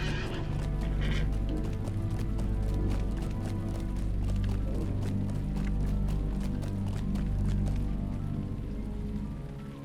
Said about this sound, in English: I missed getting on my steed apparently.